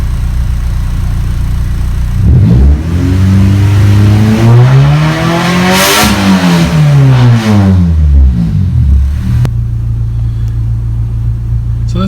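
A Honda Civic EK engine revs up while driving, a loud close rumble that climbs steadily in pitch, peaks, then falls back before settling into a steady drone.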